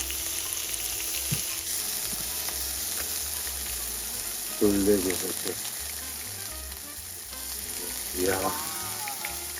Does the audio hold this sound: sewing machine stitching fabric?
no